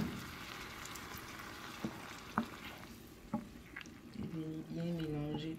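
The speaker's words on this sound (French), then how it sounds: "Et laisser tout ça frit gentiment." Food fries gently in a pan while cooking a Ghanaian rice-and-beans dish, a steady soft sizzle with a few sharp utensil taps, then a fuller crackle near the end as the frying grows louder.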